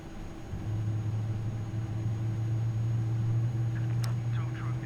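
An Airbus A300 engine spooling up during start in Microsoft Flight Simulator 2024, a steady low droning hum with a rising whine that sets in early and holds, with a brief voice near the end.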